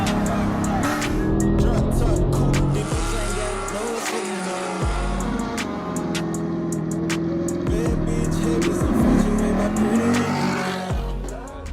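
A Chevrolet Camaro SS and a stock 10-speed Mustang GT race hard, engines roaring and revving through repeated gear changes, with tire squeal and passing rushes filling the whole stretch.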